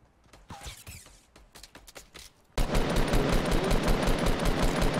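Rapid automatic gunfire in the video game Fortnite erupts midway and keeps hammering in a dense, loud burst, after a quieter opening of scattered shots and game sounds.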